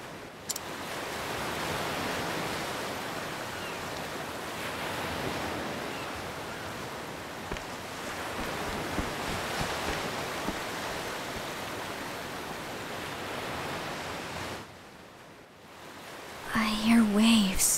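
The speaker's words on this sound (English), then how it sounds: "I hear waves." Ocean waves wash in steadily in Octopath Traveler II, a broad, continuous roar of surf for most of the stretch that drops away briefly near the end before a voice and other game sounds enter.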